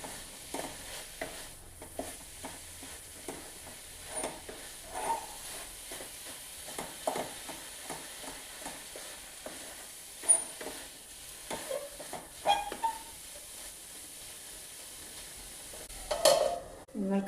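Cooked lentils being mashed and stirred into spinach in a pan, soft intermittent scraping and tapping of a utensil against the pan, faint and close.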